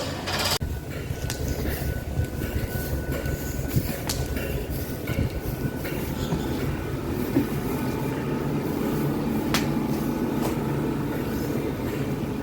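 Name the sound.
Great Western Railway class 166 diesel train arriving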